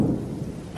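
A brief, low rumble of thunder from a storm passing over a valley, a deep, fairly loud roll that fades slightly over under a second.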